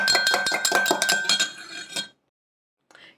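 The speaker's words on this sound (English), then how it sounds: "I've put 1 egg in a jug, and I'm going to beat that up now with a fork" A fork beats one egg in a jug, giving rapid close metallic clinking and tapping for about two seconds before silence, then a brief faint scrape.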